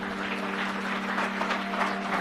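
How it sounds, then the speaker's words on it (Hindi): Audience applause for a child's parents at a school performance event, a steady broadband patter of many hands clapping continuously at moderate level with a faint tonal hum underneath. "इनके अम्मी अब्बू के लिए भी तालियां बहुत।"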